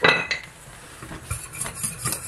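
A utensil scrapes and clinks against a metal saucepan while stirring béchamel sauce with nutmeg, a steady motion, close by and fairly quiet, with no voices.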